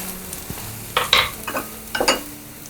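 Paneer paratha being flipped in a hot pan with ghee, giving a couple of short bursts of close sizzle and frying crackle over a quieter steady hiss.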